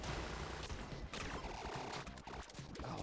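Rapid blind-fire gunshots in the top-down shooter Relic Hunter Zero, a dense continuous stream of quiet repeated shots under game effects and music.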